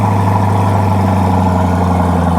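A Corvette C8 Grand Sport X engine idling after a remote start, a loud, steady low rumble with an even rhythmic pulse and no revving, heard alone.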